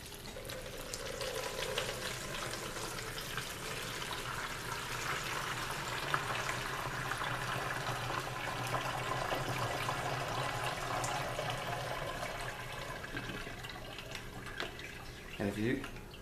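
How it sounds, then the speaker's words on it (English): Fresh water pours from the top into a hydroponic bucket in a steady, continuous splashing stream, moderately quiet, with a short handling clatter near the end. "So I'm going to take fresh water, I'm going to pour it on the top here."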